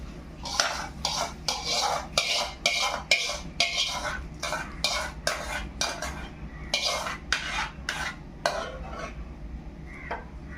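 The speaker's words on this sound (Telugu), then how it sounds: "ఇప్పుడు ముక్కల్లో కలిపేసుకుందాం మనం." Mango pickle pieces are stirred with cooled tempered oil in a bowl, a run of close, rhythmic scraping and clinking spoon strokes repeating steadily throughout with no talking.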